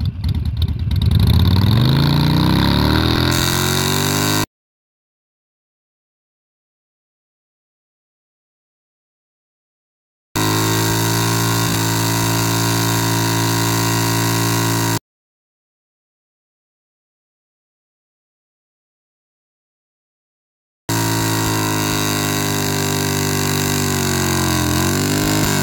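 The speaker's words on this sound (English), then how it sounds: "Slow-mo bike burnout." A motorcycle doing a burnout at a memorial burnout session, its engine revving hard and loud in sustained bursts, with two long stretches of complete silence between the bursts.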